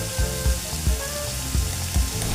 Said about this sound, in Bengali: এবারে সর্ষে পোস্ত কাজু আর কাঁচা লঙ্কা বাটাটা দিয়ে দেব